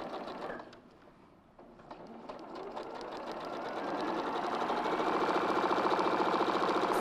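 A sewing machine stitches a log cabin quilt, its rapid mechanical clatter starting softly and building into a steady, fast, fairly loud run, with no talking over it.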